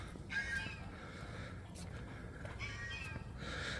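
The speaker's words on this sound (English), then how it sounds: "in the distance, I can hear geese" Geese honk faintly in the distance in a few scattered bursts over a steady outdoor hum near temple grounds by water with fish and ducks.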